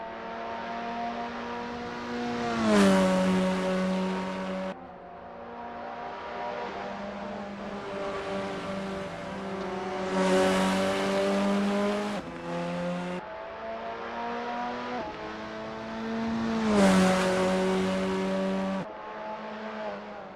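Formula 4 race cars in the Assetto Corsa video game at Misano, engines revving hard in long rising pulls that cut off sharply at each gear change, repeated over and over, loud and steady with no voices.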